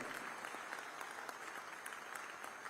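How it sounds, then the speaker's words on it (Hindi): An audience at a solar energy awareness and promotion ceremony applauds, a steady, dense wash of clapping that holds evenly throughout. "जोरदार तालियों के साथ इस ऐतिहासिक अवसर का हम स्वागत करते हैं"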